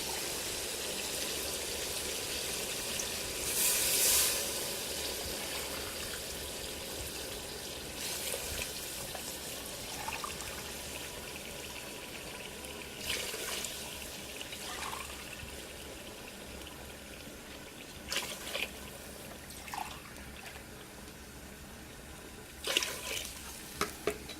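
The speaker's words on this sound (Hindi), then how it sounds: "अब हम इसमें पानी डालेंगे।" Water trickles and splashes steadily into a pot of rice for pulao at a low, even level, with occasional brief clinks and louder splashes.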